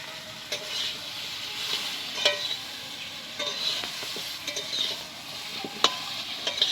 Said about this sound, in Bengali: সুন্দর ভাজা হয়ে গেছে ফুলকপি